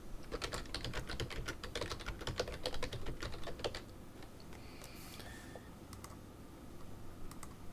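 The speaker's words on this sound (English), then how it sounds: "let's go ahead and type some text here." Rapid, close keyboard typing clatters steadily for about four seconds as text is entered into a web design page builder, then trails off into a few sparse key taps.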